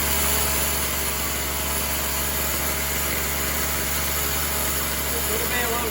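A chainsaw engine idles steadily after starting, a close, constant buzzing drone with no breaks, and a voice talks faintly over it.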